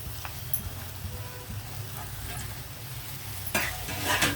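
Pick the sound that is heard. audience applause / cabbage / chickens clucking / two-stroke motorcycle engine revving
cabbage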